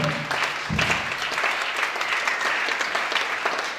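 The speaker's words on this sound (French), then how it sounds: "Acclamons pour ce Dieu-là." A church congregation breaks into sustained applause after a healing testimony, a dense, steady clapping from many hands that fills the room for several seconds.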